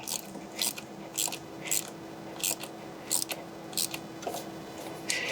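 Ratchet clicks in short bursts while valve cover bolts are tightened in a crisscross pattern on a Land Cruiser 100 Series engine, close and fairly quiet, about eight quick ratcheting spurts with pauses between them.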